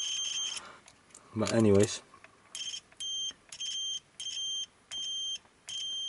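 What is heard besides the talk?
buzzer of cheap Aneng multimeter from eBay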